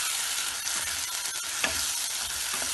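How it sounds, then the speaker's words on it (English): Tomato puree with coriander and red chili powder stirred in a frying pan for kadai paneer, a continuous close sizzle with soft scraping strokes and a brief clatter midway. "you can add your tomato puree and stir that"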